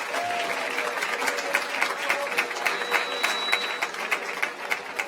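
An audience at a live sports and business awards show applauds the Dokkum dance group Emotion after their performance, steady clapping with a few sharper individual claps, and a voice briefly audible over it.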